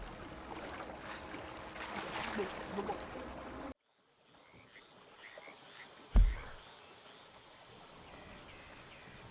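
In Red Dead Redemption 2, a boat crosses a river near the bayou north of Saint Denis, with steady water wash that drops to quieter ambience before a single sharp thud.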